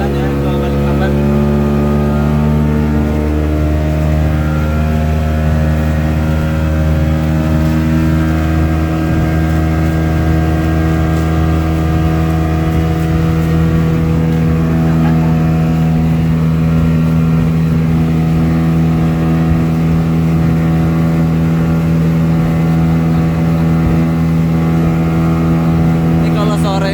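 Loud, steady outboard engine drone of a speedboat crossing the sea from Penajam to Balikpapan on a rough afternoon, continuous and close throughout with no break in the roar.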